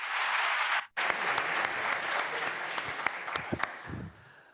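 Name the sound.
audience applause welcoming speakers at museum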